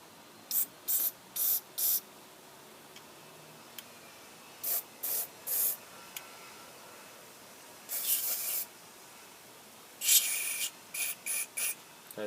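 Carburetor cleaner sprays into a whipper snipper carburetor in short sharp hissing bursts, about a dozen quick close blasts in uneven groups separated by quiet pauses.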